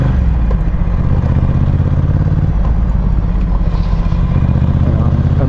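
A Ducati Diavel motorcycle rides at night through Bangkok, its engine rumbling loud and continuous with heavy wind roar close to the rider, steady throughout with no pauses.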